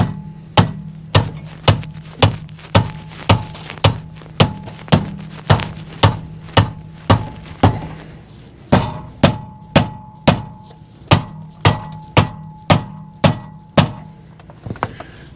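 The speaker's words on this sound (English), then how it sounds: "I'll be using this very large rubber mallet." A very large rubber mallet strikes the brake rotor of a V12 Mercedes, about thirty loud, evenly spaced thunks in a steady rhythm with a short pause midway, close and alone with no talking.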